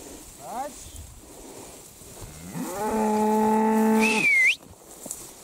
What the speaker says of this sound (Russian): Коровки, давайте побыстрее.